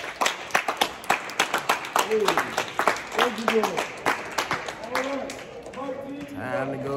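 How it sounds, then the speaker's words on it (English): An audience claps for a rapper in a brisk, steady round of applause, close and moderately loud, while people talk over it and the clapping thins toward the end. "Let's give a huge round of applause for my talent"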